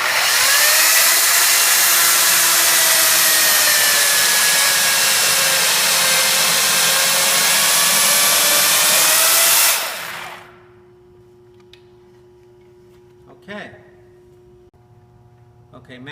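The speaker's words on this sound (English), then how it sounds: "we're just cutting this rafter to length at this point." A portable chainsaw cuts a wooden rafter to length during post and beam framing, a loud, steady high whine for about ten seconds before cutting off, followed by near quiet with a few faint knocks.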